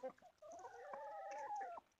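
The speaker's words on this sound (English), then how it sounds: "So, I'll leave you with the chickens." Chickens in a greenhouse setting give a steady run of clucking and drawn-out crooning calls, fairly close and alone with no talk.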